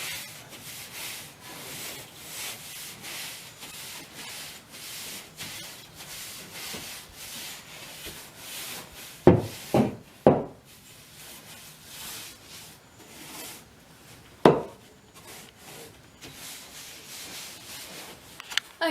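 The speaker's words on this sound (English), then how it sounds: "use this soft brush to get most of the shavings off the walls" A soft brush scrubs wood shavings off stable walls in repeated quiet rubbing strokes, with a few louder knocks and scrapes partway through.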